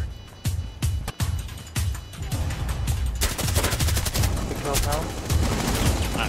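Rapid gunfire in the video game Rainbow Six Siege, sharp close shots at first, then sustained automatic bursts rattling continuously, loud, with players' voices talking over the action.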